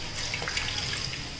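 Water pours into a pressure cooker holding dal, portioned by the bowl for four people, a brief, fairly quiet splashing gush heard alone.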